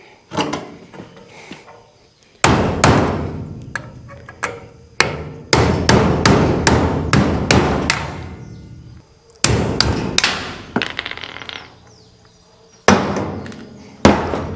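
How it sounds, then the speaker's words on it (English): Repeated metal-on-metal hammer blows on a chisel held in vice grips, beating at a lug-nut socket with an aluminum cage stuck inside; several bursts of rapid, loud, close strikes separated by brief pauses. "we're gonna use vice grips when we hold a chisel, and we're gonna try to beat the socket off again"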